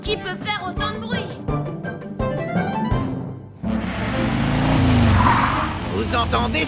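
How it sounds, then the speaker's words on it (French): A cartoon motorcycle engine revs and its tires skid, a loud roaring, squealing burst that rises and holds after busy music and voices in the first half. "Vous entendez ce moteur qui ronronne? C'est un vrai plaisir pour les oreilles."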